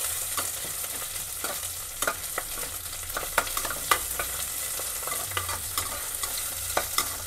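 Ginger and garlic frying in a pan for a chicken gravy, a constant sizzle broken by sharp scrapes and taps of a stirring spoon, close up with no talking.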